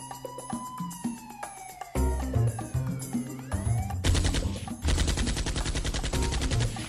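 Gunfire in GTA 5 Online: rapid machine-gun bursts and repeated shots, loud and close, mixed with a wailing police siren and game music, growing denser toward the end.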